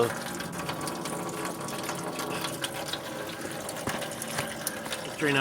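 Coolant drains from a 2006 Chevy Malibu 3.5L into a pan under the car, a steady close trickle and splash of liquid running continuously with faint background noise.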